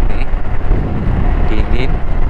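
Heavy wind buffets the microphone while riding a Honda Supra motorcycle, a constant low roar with a voice talking faintly beneath it.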